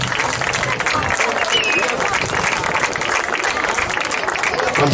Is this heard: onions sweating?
no